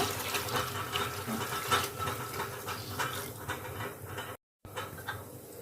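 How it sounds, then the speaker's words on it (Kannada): Water poured into a pressure cooker holding sambar ingredients with green chillies and curry leaves; a steady close splashing fill over several seconds with a brief dropout near the end. "ನೀರು ಹಾಕೊಳ್ತಾ ಇದ್ದೀನಿ ಇದಕ್ಕೆ"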